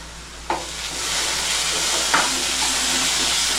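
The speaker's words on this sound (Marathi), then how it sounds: "मस्त कांदा बघा सरसरायला लागलाय असा कांदा फ्राय करून घ्यायचा" Onion frying with ginger-garlic paste in a pan gives a steady, loud sizzle and hiss throughout, with two brief clinks of a spoon stirring against the pan.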